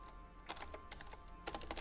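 Typing on a computer keyboard for a Linux update command, two short bursts of rapid, crisp key clicks, close and alone.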